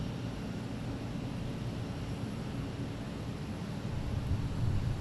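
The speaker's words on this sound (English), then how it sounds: "Next taking off is a JetBlue Flight 311 heading to Chicago." A JetBlue Airbus A320 takes off from Boston Logan airport, a broad steady rumble of jet engines heard from a distance, swelling slightly near the end.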